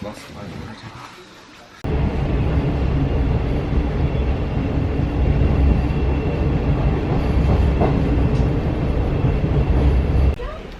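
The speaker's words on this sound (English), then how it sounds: "Dean said he felt like Michael Portillo on a railway adventure" A rail journey in Australia, heard from inside a moving train carriage: after a short quieter moment, a loud, continuous rumbling roar of wheels and carriage noise sets in and holds steady until near the end.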